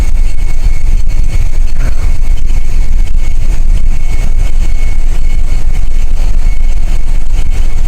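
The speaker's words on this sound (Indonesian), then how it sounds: "Dan ini view kamar mesin gue ya, ini mesin utama, main engine, MAN BMW." The MAN B&W main engine of a large gas tanker ship runs in its engine room, making a loud, constant, dense roar and hum that fills the space without a break.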